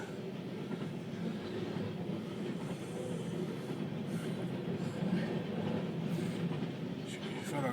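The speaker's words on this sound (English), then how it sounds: "That was a diesel 199 pulling that." A freight train hauled by a diesel locomotive rolls past in Biloxi, a steady faint rumble of wheels on track continuing for several seconds with no clear break.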